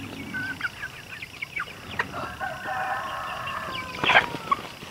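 Chickens cluck and a rooster calls through a soft outdoor background, with a louder squawk near the end and a dog barking briefly.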